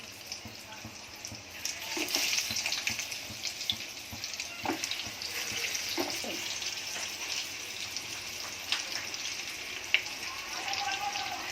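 Alu vadi, crisp Maharashtrian taro-leaf rolls made with plenty of onion, deep-fry in oil with a steady hissing sizzle and scattered pops and crackles, a voice faintly present underneath.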